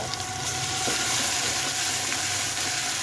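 Ginger and garlic paste fries with onions in a pan, making a loud, dense, continuous sizzle with faint stirring scrapes, close up and without talk.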